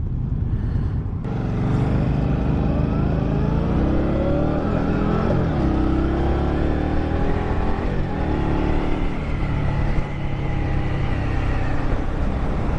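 A 2023 Indian Scout Rogue motorcycle with a 100-horsepower V-twin rides at speed, its engine droning loud and steady with rising and falling revs through gear changes, mixed with wind rush, no talk.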